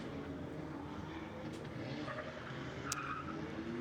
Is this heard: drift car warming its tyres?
yes